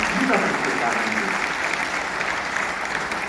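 Audience applause at a Divya Prem Seva Mission felicitation event in Kashi, Varanasi, a dense, steady crackle of many hands clapping that keeps going without a break.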